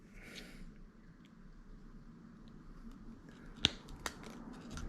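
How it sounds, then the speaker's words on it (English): Two sharp close snips as the tag end of fluorocarbon fishing line is trimmed, brief clicks against a quiet outdoor background. "Just snip off the tag end, and we can trim down"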